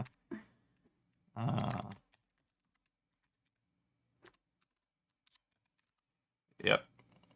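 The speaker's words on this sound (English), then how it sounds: "Finish typing." Fingers tap a computer keyboard in a few short, separate bursts, close and moderately loud, with quiet gaps between them.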